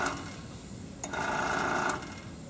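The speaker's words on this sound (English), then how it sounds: "That compressor is really annoying." An air compressor running at a painting demo, a steady close mechanical hum with a brief pulse and a sharper higher-pitched stretch in the middle.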